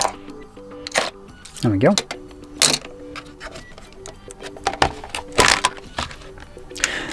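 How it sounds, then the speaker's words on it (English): A small knife cuts into the packaging of a Ringke Fusion phone case for the iPhone 15 Pro Max, giving sharp scraping and slicing bursts close by, mixed with crinkling and handling noises and a brief spoken remark. "Looks like I do have to cut into it, so let's just grab my little trusty knife."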